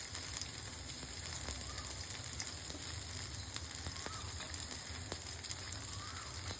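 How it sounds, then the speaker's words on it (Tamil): Bread toasting in butter in a pan sizzles softly and steadily, a faint continuous frying hiss with occasional light crackles. "இது அப்படியே பட்டர்லேயே டோஸ்ட் ஆகிட்டு இருக்கட்டும்"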